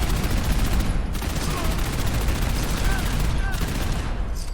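Rapid bursts of AKM rifle fire with explosive rounds in Fallout 4 crackle in dense, sustained volleys, with the repeated shots blending into a loud, continuous barrage and brief pauses between strings.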